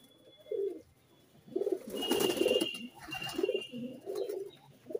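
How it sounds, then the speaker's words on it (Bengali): Pigeons coo nearby in a few low, throaty bursts separated by short pauses, with a faint high chirp or whine running in the background. "দেখুন বন্ধুরা, আরেকটা পায়রা জল খেতে যাচ্ছে।"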